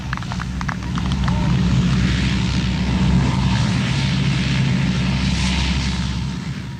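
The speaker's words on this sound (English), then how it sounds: "the first of the RAF Hercules lands between the bomb craters on a stretch of runway" An RAF Hercules turboprop lands on a debris-cleared, bomb-cratered runway during the 1971 war, a loud steady engine roar sustained throughout with faint clanks early on.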